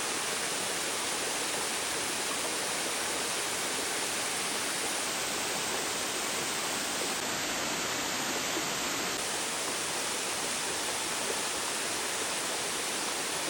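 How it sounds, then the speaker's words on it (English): Nelson Falls in Tasmania pours in a constant, broadband rushing roar, steady and unbroken throughout, heard from a moderate distance with no voices. "That is Nelson Falls."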